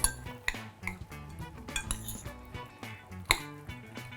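Utensils clink and scrape against a bowl while a broccoli and cauliflower salad with pine nuts and sauce is tossed, giving irregular close taps and soft squishes with no talking.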